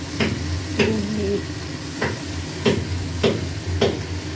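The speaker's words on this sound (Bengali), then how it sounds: "এটা এখন কষা হচ্ছে।" Gugli (snail) curry sautéing and being stirred in a pan, with regular scraping strokes of the spoon about every half second over a steady low sizzle, close and fairly loud.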